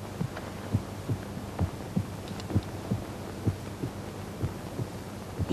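Low, soft heartbeat thumps pulse at a steady rhythm over a faint background hum, with no voices.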